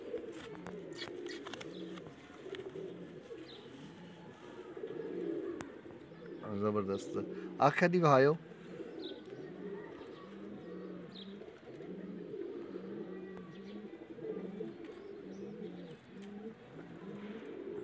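Rampuri pigeons coo in a repeated, rhythmic series of soft low calls, close by, running under a voice talking throughout, with a brief louder burst of other sound midway.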